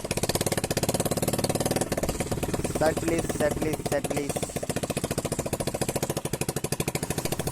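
A Swaraj tractor engine chugs in a rapid, even rhythm while the tractor drives up to a temple, loud and close throughout, with a person talking over it.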